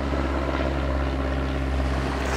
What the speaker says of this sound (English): I think it's a plane.